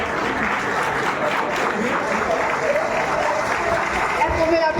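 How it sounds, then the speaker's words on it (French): Sustained audience applause at an excellence awards ceremony for African student union members in Meknes, Morocco, a dense steady patter of many clapping hands with a faint murmur of voices mixed in throughout. "Est-ce qu'on peut l'applaudir, s'il vous plaît?"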